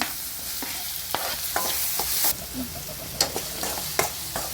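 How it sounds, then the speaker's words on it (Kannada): Chopped tomato goes into a frying pan with turmeric and salt for a North Karnataka cluster bean stir-fry, a close sizzle punctuated by repeated scraping stirs and sharp utensil taps against the pan. "ಈಗ ಒಂದು ಟಮಾಟೊ ಹೆಚ್ಚಿಟ್ಕೊಂಡಿನಿ ಅದನ್ನ ಹಾಕ್ತೇನೆ"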